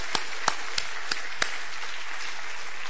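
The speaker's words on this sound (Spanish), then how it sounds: "Otro aplauso, por favor, porque nos hemos quedado con más ganas." An audience at a business talk on metrics in Lima gives sparse applause, a handful of distinct claps standing out over a soft wash of scattered clapping in a large room.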